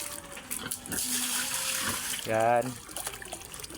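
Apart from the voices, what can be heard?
water being poured in for pigs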